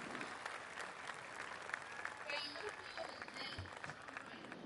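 Crowd cheering and applause from a golf video game, a continuous soft wash of clapping and distant cheers at low volume with someone speaking briefly over it.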